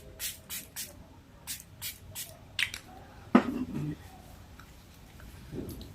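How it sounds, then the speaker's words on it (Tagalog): Several short, sharp pumps of a facial toner spray bottle sound close up, spaced in a loose rhythm, followed by a few soft handling noises. "So, yung toner. Ngayon lang ako nag-toner na ganito. Na this spray."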